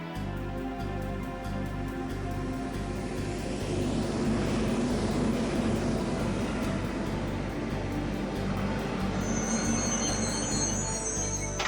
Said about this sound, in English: The Erebonia bound passenger train will soon be arriving at Platform 2.